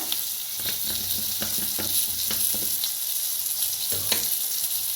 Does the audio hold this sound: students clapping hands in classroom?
no